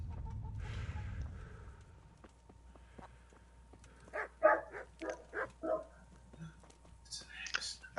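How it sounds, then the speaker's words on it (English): Dogs barking in Kingdom Come: Deliverance, a few sharp, fairly close barks in a quick cluster, with chickens or a rooster clucking nearby and faint quiet background sound. "I really hate those dogs."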